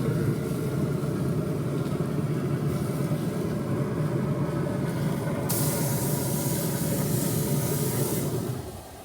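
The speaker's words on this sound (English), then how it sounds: "Now let's put ours on the pellet grill." Burgers sizzle on a griddle set up on a pellet grill, a loud, steady broadband hiss that holds for several seconds and then fades near the end, with no talking.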